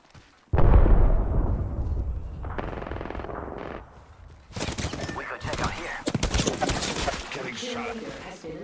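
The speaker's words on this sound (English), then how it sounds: "They're shooting at me. I am taking fire, friends." Apex Legends gunfire comes in bursts, heavy rapid fire at first, then crackling volleys and scattered shots later, loud and close, with a voice talking over the action.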